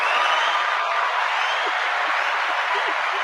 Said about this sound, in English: Yeah, I got a mixing desk just down here, and I can do the crowd cheers